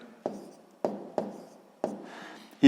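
Pen strokes writing math on paper for a sixth-grade exercise, four separate scratchy marks spaced apart, close and fairly quiet, ending with a louder rub.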